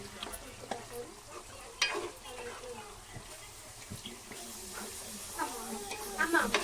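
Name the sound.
stirring gongura liver curry with tomato in a pan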